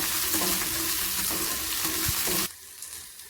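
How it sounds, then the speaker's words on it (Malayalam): Curry leaves, green chili and garlic sauté in hot oil with a steady, close sizzle and occasional stirring clatter, then the frying cuts off abruptly near the end, leaving quiet room tone. "കുറച്ച് കറിവേപ്പില പച്ചമുളക് വെളുത്തുള്ളി ചേർക്കാം ഇതെല്ലാം ഒന്ന് വഴന്ന് വരട്ടെ"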